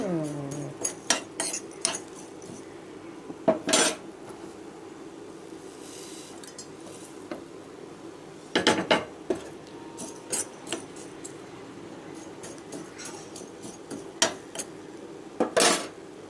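A spoon stirs and scrapes in a pan while ingredients are sautéed for temple-style puliyodharai, giving scattered metallic clinks and scrapes at moderate level with quiet stretches between them and no talking.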